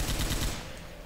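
A gun fires in a Left 4 Dead mod game, a loud, close burst of rapid automatic shots lasting about half a second before fading into a decaying tail.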